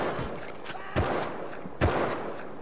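Enemy gunfire in the Rust video game, two or three crisp shots spaced about a second apart, moderately loud over a steady background.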